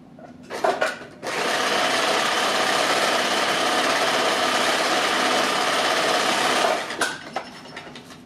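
Sewing machine running steadily for several seconds in one continuous burst as elastic is back-stitched onto a leather puppet head, with brief starts and stops at either end.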